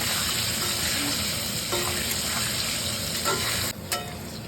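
Potatoes and garlic sizzle in a pan with turmeric and salt, a dense and even frying hiss close by, with a few faint stirring clicks and a brief dip near the end.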